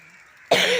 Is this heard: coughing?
yes